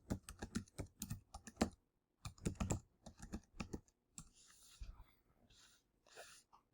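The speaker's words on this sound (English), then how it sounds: "Type in your password again if prompted." Quiet keystrokes on a computer keyboard as a password is typed at an Ubuntu Linux terminal, a run of light clicks in short bursts, close and faint, with no talking.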